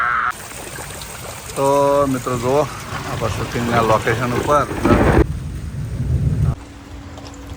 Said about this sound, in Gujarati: તો મિત્રો જો ખતરનાક વરસાદ આવી ગયો